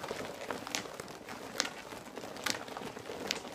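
Squeaky H&M PVC clothing rustles and crinkles as the wearer moves, with bright, sharp squeaks every second or so over a continuous close-up crackling rustle.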